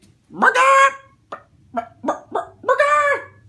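Cartoon chicken clucking from an animated superhero movie, a few loud squawking bursts with short choppy clucks between them, close and alone with no talk.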